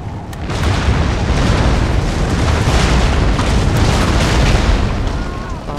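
Artillery cannon fire in the video game Napoleon Total War, a loud, sustained rumbling roar of booms blending together, dense and close throughout.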